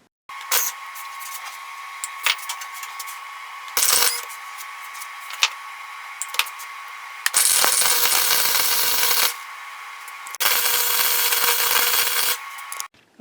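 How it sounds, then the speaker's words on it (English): Wire feed welder tack welding a homemade forged hammer made from old tie rod ends, a series of crackling, buzzing welding bursts of varied length with brief pauses between them. "I'm going to just tack weld it with the wire feed"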